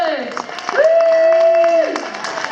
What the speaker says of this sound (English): can we just do a huge round of applause for Kat Watkins and Kim Isherwood.